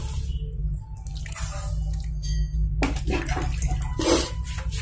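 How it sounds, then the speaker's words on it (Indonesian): Water splashes and trickles onto soil and leaves in short pours, with dripping between, close by over a low background hum. "Siram aja dulu ke tanamannya."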